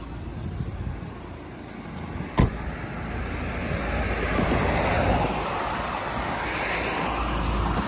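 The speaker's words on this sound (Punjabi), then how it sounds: "ਹੁਣ ਵੀਰਾ ਗੱਡੀ ਚਲਾਊਗਾ" A car on the road from a village toward Chandigarh, with a steady broadband rumble of road and wind noise rising gradually, one sharp thump near the start, and no talking.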